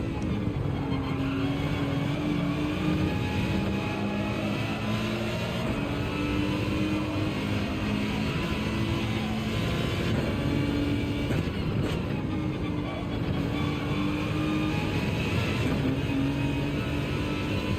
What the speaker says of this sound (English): I like the sound of the engine. Not gonna lie. It sounds menacing.